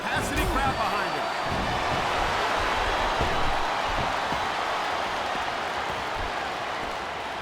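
A capacity arena crowd roars and cheers steadily in the Smackdown vs Raw 2007 wrestling game, a dense continuous wash of noise beneath commentators talking.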